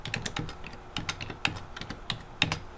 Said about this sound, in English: So I'll type in a bunch of numbers here.